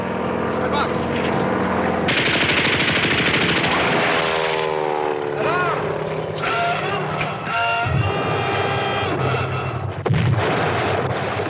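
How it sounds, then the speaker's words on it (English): Enemy aircraft attack a surfaced U-boat with gunfire, a dense, loud barrage of rapid machine-gun bursts and booming artillery-like blasts. The shooting runs without a break through the clip, with shouting voices mixed into the din. "Herr Kapitän, enemy aircraft!"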